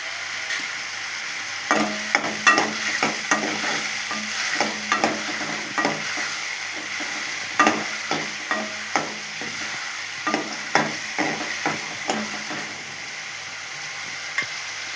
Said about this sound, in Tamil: இந்த மாதிரி புடலங்காய் பிஞ்சு விதையை நல்லா நம்ம எண்ணெயிலே நல்லா வேக விட்டு எடுத்துக்கணும்